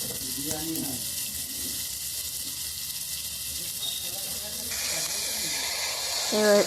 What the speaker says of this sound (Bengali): এবার এর মধ্যে আমি ক্যাপসিকামগুলো দিয়ে দিলাম দিয়ে একটু নাড়াচাড়া করে ভালো করে ভেজে নেব